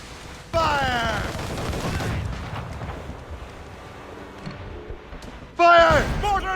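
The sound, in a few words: cannon and mortar fire in video game Assassin's Creed Rogue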